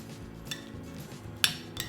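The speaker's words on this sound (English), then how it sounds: "let's go ahead and mix this together" A utensil stirs guacamole with minced cilantro in a bowl, soft mushy scraping punctuated by a few light clinks against the bowl, close and brief with no talk.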